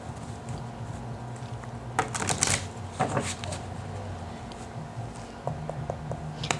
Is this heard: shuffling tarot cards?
yes